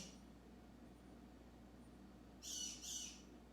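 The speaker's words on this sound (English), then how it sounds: "The bird's squawking in the room." A pet bird squawks indoors, two short, fairly faint calls near the end over a steady low room hum.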